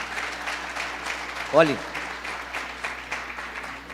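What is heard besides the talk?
congregation applauding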